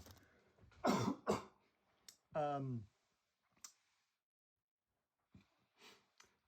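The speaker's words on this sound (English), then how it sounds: "one short coughing fit later" Several harsh coughs after eating dry protein breakfast cereal burst out close to the listener, spaced by short pauses and then trailing into quieter throat sounds and silence.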